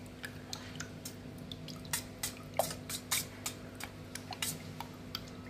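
Rock salt stirred into a small amount of water for treating fish white spot and fungus: a run of soft, quick clicking and dripping ticks, close and fairly quiet, irregular but steady over a faint low hum.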